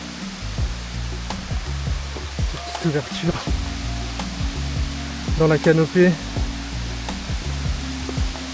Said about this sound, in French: qui laisse apparaître une magnifique cascade avec des petits bassins